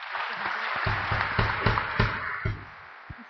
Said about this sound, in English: A warm round of applause for her